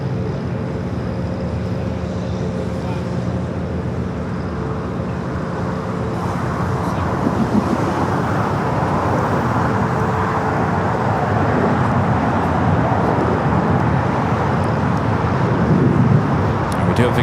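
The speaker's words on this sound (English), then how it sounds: "Next takeoff here on the south side." An Airbus A320 airliner takes off on the south side of Los Angeles International Airport, a steady jet roar that swells and grows broader partway through, with light background noise throughout.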